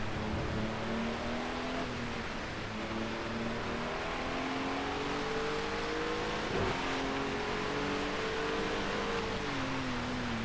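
A race car engine in the racing game Project Cars drones steadily at high revs, its pitch rising and falling through gear changes as it runs continuously and loud with no talk.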